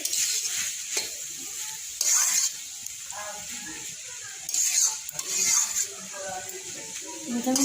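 Chow mein stirred and frying in a pan in a home kitchen, a steady sizzle with scraping strokes that swell at intervals, while people talk in the background.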